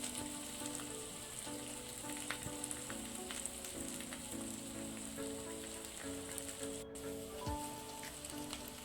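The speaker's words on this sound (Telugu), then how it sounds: "బాగా ఫ్రై చేసుకోవాలి." Cauliflower pieces for gobi 65 frying in hot oil give a steady, even crackle and hiss throughout, close and continuous, with a faint clink partway and no speech.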